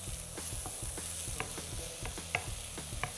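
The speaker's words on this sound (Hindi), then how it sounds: "प्याज को हल्का ब्राउन करने के बाद चॉप्ड टमेटोज इसमें ऐड करेंगे।" Onions and chopped tomatoes fry and are stirred in a pan for soya amti with matki, a constant close sizzle broken by repeated rhythmic clacks and scrapes of the spoon, with no talking.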